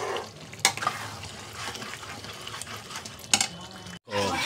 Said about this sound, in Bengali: ভালো করে কষিয়ে নেব কিমাটাকে